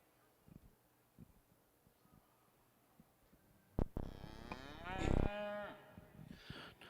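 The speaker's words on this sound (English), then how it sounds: "Another excellent set of heifers, calves in our Shorthorn Plus show." Shorthorn Plus heifer calves at a cattle show give a loud, drawn-out moo partway through, with a second, fainter bellow later and scattered arena rustle and thumps around them.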